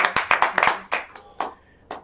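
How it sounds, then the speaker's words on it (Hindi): A handful of sharp hand claps ring out close by at a group poetry gathering, a quick run of them that thins to a few scattered claps, without talk. "ताली।"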